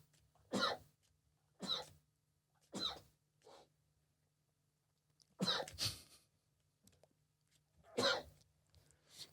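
A person sneezes repeatedly, five sharp bursts spaced over several seconds with quiet gaps between, close and fairly loud against a faint background hum.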